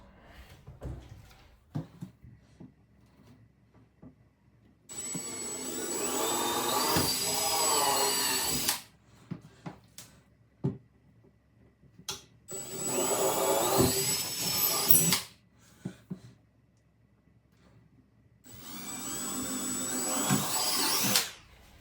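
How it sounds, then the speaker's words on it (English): A power drill with a 1/8 inch bit bores holes into a reinforced wall during a glass shower door install. It runs in three separate whining bursts of about three to four seconds each, with quiet handling clicks between them. "I just need the 1/8 inch bit, and I'll screw directly into the reinforced walls."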